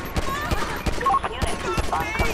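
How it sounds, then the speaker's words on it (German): Gunfire rings out in GTA 5 during a police shootout, rapid repeated sharp shots in quick bursts with some voices over them. "Dann schießen wir mal zurück"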